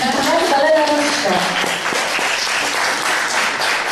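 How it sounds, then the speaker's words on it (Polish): Audience applause for a guest at a meeting with actress Magdalena Różczka, steady dense clapping throughout, with a voice talking over it near the start. "poproszę o brawa na gościa"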